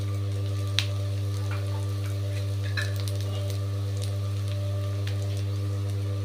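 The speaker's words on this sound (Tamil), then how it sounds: "கொஞ்சமாக அதை வதக்கிண்டு இதுக்கு தேவையான அளவுக்கு உப்பு போட்டுக்கிறேன்." Orange peel sautéing in a pan for thokku gives a soft, steady sizzle with occasional light stirring clicks, set over a constant low hum and heard without any voices.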